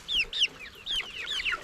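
Several chickens cluck close by in short, repeated bursts at a poultry yard, their calls overlapping in a busy, uneven rhythm.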